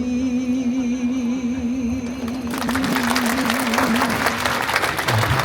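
Sustained tonal music gives way midway to a sudden swell of audience applause, a dense, steady clapping crowd that carries on to the end.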